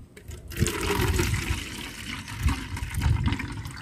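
Homemade insect and ant repellent liquid is scooped and poured into a spray bottle, giving a continuous close splashing, gurgling pour of water with a few louder sloshes, with no talking.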